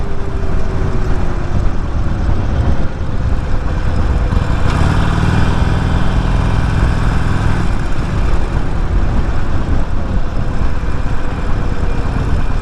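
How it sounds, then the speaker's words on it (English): Harley-Davidson Forty-Eight Sportster with about 7,000 miles, cruising on an early ride: a steady, loud, close engine rumble under heavy wind noise, holding an even note with a slight change in tone partway through. "this is my official first ride on this motorcycle"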